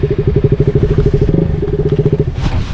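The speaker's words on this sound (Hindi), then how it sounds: "आज एक्सपल्स राइड कर रहा हूँ मैं" Hero Xpulse 200cc motorcycle riding an off-road trail, its single-cylinder engine thumping in a fast rhythmic pulse close to the mic, with rattles and clatter from the rough ground and no talk.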